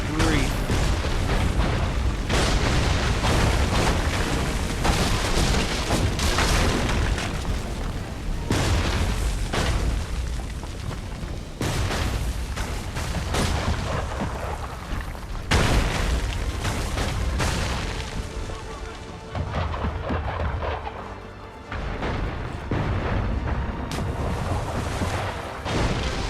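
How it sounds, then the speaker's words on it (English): Heavy artillery bombardment of Charlestown in Assassin's Creed 3, with repeated loud booms and blasts rolling over a dense, continuous roar of battle for the whole stretch, a voice talking over parts of it. "running through Charlestown that's getting bombarded"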